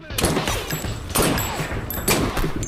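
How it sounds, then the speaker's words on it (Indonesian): Three loud bursts of rapid rifle fire, each a sharp crack of shots followed by a fading tail, spaced about a second apart. "langsung mengambil sepucuk senapan dan melepaskan tembakan secara membabi liar ke arah Joe yang tengah berlari."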